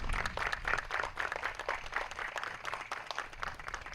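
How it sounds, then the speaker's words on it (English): An audience at a proclamation ceremony honoring EMS personnel gives a round of applause. The clapping is moderate and fairly distant, a steady patter that continues throughout with no voices over it. "Please join me in giving these brave souls a round of applause"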